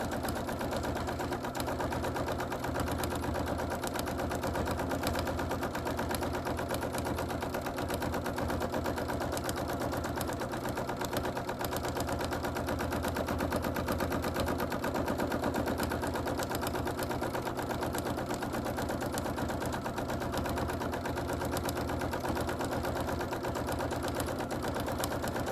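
A sewing machine stitches background quilting around a flower head on a quilt. Its fast, steady mechanical chatter runs continuously and evenly at close range, with no pauses or talk.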